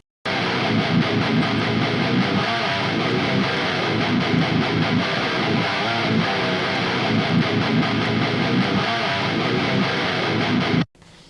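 A dense, distorted Ibanez Universe UV777 Steve Vai seven-string electric guitar in drop A tuning plays a steady rhythm part, loud and continuous, cutting off abruptly at the end.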